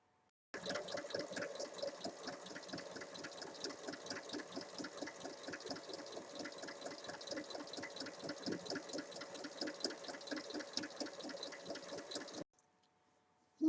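Sewing machine topstitching a double-folded 1 cm hem on a fabric rectangle for a pencil case, a fine rapid needle patter running continuously for about twelve seconds at a soft, even level before stopping.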